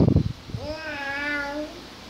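After a short vocal burst, a voice imitates a cat with one long, wavering meow, fairly close and soft.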